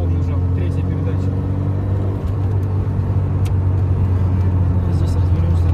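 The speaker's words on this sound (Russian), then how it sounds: "Вот я сейчас пол нажал, третья передача." VAZ 2106 accelerating at full throttle in third gear, a steady loud engine drone with strong low harmonics throughout, heard from inside the car.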